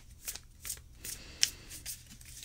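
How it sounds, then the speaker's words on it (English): A tarot card deck being shuffled by hand, soft papery riffles and light slaps in a few quick strokes, close but quiet, with no talking. "This is the last shuffle, and here they all come."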